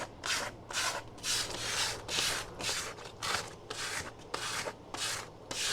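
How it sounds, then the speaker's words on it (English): Coarse sandpaper scrubs across denim jeans in rhythmic back-and-forth strokes, about a dozen raspy bursts in even succession, close and fairly loud with no voices. "Put a leg up and sand away."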